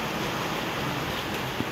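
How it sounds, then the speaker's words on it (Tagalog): Strong wind from a typhoon sweeps over rice fields in Luna, La Union, a steady broadband roar buffeting the microphone without pause and with no voices. "Dito medyo mas mahangin dito."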